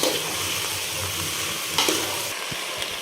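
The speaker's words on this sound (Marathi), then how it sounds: "छान परतून घ्यायचं आहे आपल्याला तांदूळ तेलामध्ये चांगले दोन ते तीन मिनिट आपल्याला हे तांदूळ परतून घ्यायचे" Rice is stir-fried in oil in a pan for a chicken biryani, giving a steady close sizzle broken by a few scraping stirs and a soft knock near the end.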